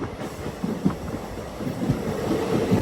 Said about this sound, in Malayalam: അങ്ങനെ നമ്മൾ ഷിംലയിലേക്കുള്ള ലാസ്റ്റ് ട്രെയിൻ കയറി.